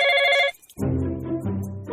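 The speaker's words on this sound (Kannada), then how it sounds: "ನಿಮ್ಮ ಫೋನ್ ಮಾಡ್ಯಾರ ನೋಡ್ರಿ" An incoming call sets off a telephone ringtone, a bright electronic trill heard loudly for about half a second before it cuts off and a voice starts talking.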